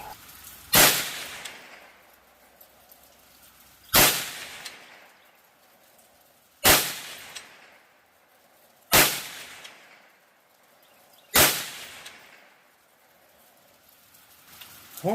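Five sharp, loud gunshots from .22 WMR rifle rounds, CCI VNT 30 grain, fired one at a time a few seconds apart, each a crisp crack with a short decaying echo outdoors.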